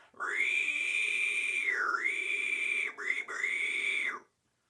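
A human voice imitates a pig with a shrill, inhaled squeal, held steady with a brief dip, then a short break and a second screeching burst.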